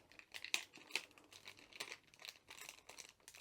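A resealable glue strip being peeled slowly off a sealed plastic bag, giving a run of close, quiet crinkling and tacky tearing bursts with brief pauses between them.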